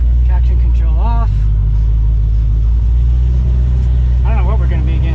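A Shelby GT500 sits at a drag strip with traction control off, its engine giving a loud, deep, continuous rumble as it is readied to launch with some RPM, while someone talks over it.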